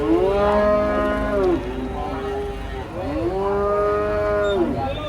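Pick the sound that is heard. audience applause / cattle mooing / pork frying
cattle mooing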